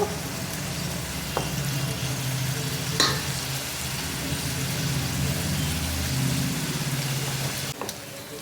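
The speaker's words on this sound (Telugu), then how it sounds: "ఇలా మిక్స్ చేసుకొని ఉల్లిపాయలు గోల్డెన్ కలర్ వచ్చేదాకా ఫ్రై చేసుకోవాలండి" Onions fry in hot oil for a chicken curry, a steady close sizzle with a few sharp clicks of a spoon stirring the pan.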